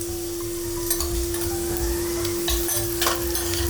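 Cumin and asafoetida sizzle in hot oil for aloo bhaji, a steady close frying hiss with scattered small pops and a constant low hum beneath.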